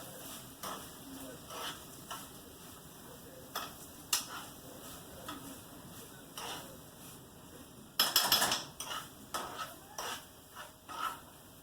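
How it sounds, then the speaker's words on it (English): Brussels sprouts with shallots, apple butter and mustard are stirred in a pan, a spoon scraping and clinking against the metal in irregular bursts over a quiet sizzle. "Just going to stir it around."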